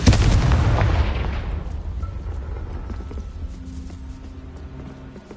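A heavy explosive blast from the Confringo spell in Hogwarts Legacy, loud at the start with a rumbling roar that slowly fades and dies away, no talk.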